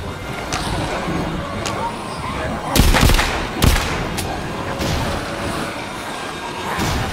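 Gunfire in the video game The Fate of Henri Lafayette: a few loud, sharp shots, two of them standing out close together, crack over a continuous noisy game soundscape with low rumbling in the background.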